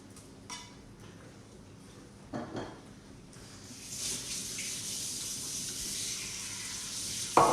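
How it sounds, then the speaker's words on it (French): Running water and soapy scrubbing as butter-coated hands are washed with soap at a kitchen sink while baking a banana cake, faint at first, then a steadier, louder rush of water in the second half. "Pendant ce temps-là, on va aller se laver les mains"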